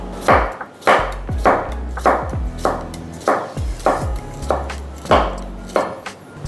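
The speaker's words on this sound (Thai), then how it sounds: "คราวนี้อยากจะหั่นเร็วเท่าไหร่ก็หั่นไปสิ" A knife chops vegetables quickly on a board, about a dozen sharp thuds in an even, brisk rhythm, close and clear with no voices.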